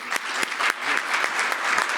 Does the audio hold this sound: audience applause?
yes